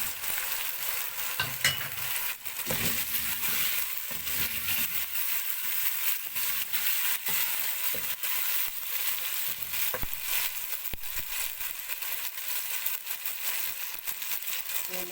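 Tomatoes and green chillies hiss and sizzle in a frying pan for a sustained stretch, with crackling spatters and occasional stirring scrapes throughout.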